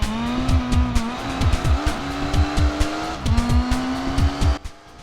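Racing cars in the video game Gran Turismo 4, a steady high engine drone with shifting pitch, punctuated by repeated tire squeals and skids, close and loud, cutting off abruptly near the end.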